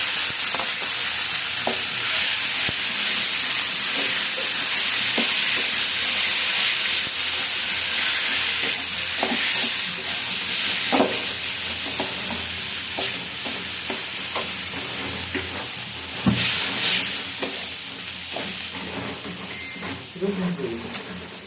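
Onion and greens fry in a pan with a little oil, hissing and sizzling steadily, while a utensil stirs and scrapes in scattered clicks throughout.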